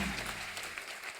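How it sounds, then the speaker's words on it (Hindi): Studio audience on a Hindi comedy talk show claps for four guests, a brief burst of applause already fading at the start. "जोरदार तालियां हो जाए हमारे चारों मेहमानों के लिए।"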